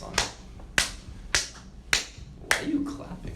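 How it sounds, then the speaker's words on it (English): Five sharp, separate hand claps spaced roughly half a second apart, close and fairly loud, with a faint murmur of background talk between them. "Why are you clapping?"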